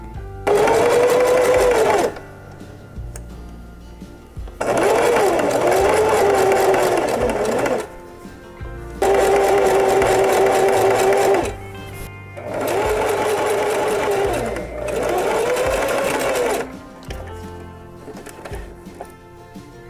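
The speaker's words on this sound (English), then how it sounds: "I'm going to sew the side seams of my bag first." A sewing machine zigzag stitching the side seams of a knit fabric grocery bag at stitch length 3: four loud whirring runs, each a few seconds long, separated by short quiet pauses.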